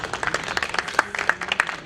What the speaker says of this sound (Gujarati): A long round of applause